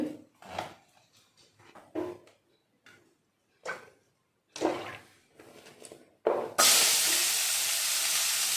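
Onions and coconut hit a hot pan with a sudden, loud, steady sizzle that keeps going, after a run of sparse clicks and taps nearby.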